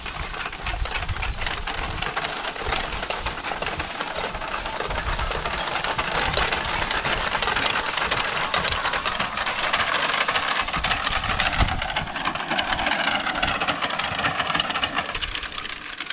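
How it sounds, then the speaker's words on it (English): A Honda motor drives a hay tedder with a steady, loud, noisy hiss and rattle outdoors, continuous throughout with a slight change in tone partway through. "The motor is noisy, even though it's a quiet Honda"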